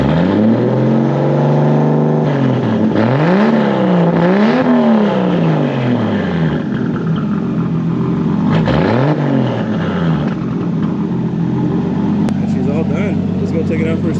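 A straight-piped Toyota Supra engine with a home-built exhaust, idling and then blipped in several loud rising and falling revs, close by, with someone talking over parts of it.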